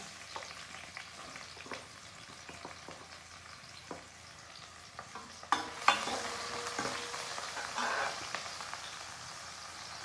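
Onions frying with cumin seeds in a pan while rice is being cooked: a close, steady sizzle runs throughout, broken by clicks and scrapes of stirring, with a brief louder burst of hissing partway through.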